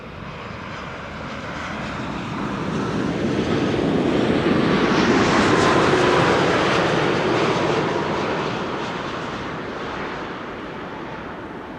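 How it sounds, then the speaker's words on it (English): KLM Boeing 787-10 Dreamliner on final approach landing at Amsterdam Schiphol, a broad roaring jet engine rumble that swells to a loud peak as it passes overhead and then slowly fades, with no voices. "KLM flight 644 arrived from New York JFK already. Here on final"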